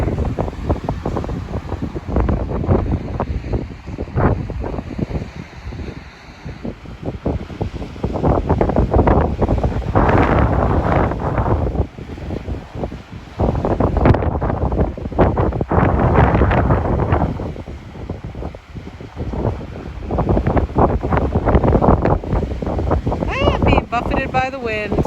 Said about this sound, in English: Buffeted by the wind.